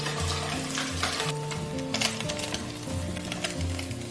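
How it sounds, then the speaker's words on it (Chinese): Pork belly sizzles in a dry wok with no added oil, rendering out its fat. A steady crackling fry runs throughout, mixed with a tuneful backing melody that stays prominent alongside it. "锅中不用倒油，直接下五花肉煸油"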